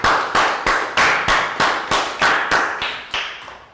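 Children in a primary classroom clap in unison, roughly eleven sharp, evenly timed claps close by, the last few softer and trailing off.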